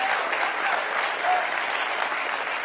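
Audience applause at a college commencement ceremony, a dense, continuous clatter of many hands clapping, moderately loud and even across a few seconds with no pauses.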